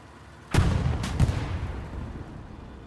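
Tank cannon fire in a multiplayer tank video game: two heavy booming shots about half a second apart, each with a deep rumbling tail that fades slowly, loud and close with no talking.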